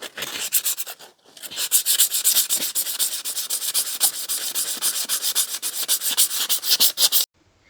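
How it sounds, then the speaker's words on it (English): Hand sanding painted thrift store decor with fine 400-grit sandpaper, rapid rhythmic back-and-forth scratching strokes, close and steady, stopping after a brief early pause and ending abruptly. "you can take a fine grit sandpaper, and I've got a 400 here, and lightly sand over it once it's completely dry"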